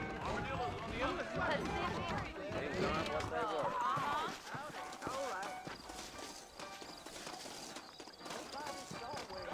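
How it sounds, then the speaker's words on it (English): Horses clip-clopping in the video game Red Dead Redemption, a steady run of hoofbeats moving along beneath continuous male dialogue and faint background ambience. "I got the horses saddled up and ready out front."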